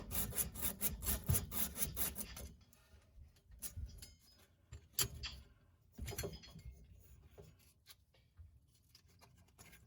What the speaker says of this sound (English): keep using the sandpaper to get the oxidization, any paint off of the copper pipe